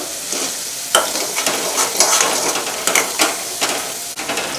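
Ginger-garlic paste fries in hot oil for a korameenu fish pickle, a loud close sizzle broken by repeated scraping and knocking of a spoon stirring the pan.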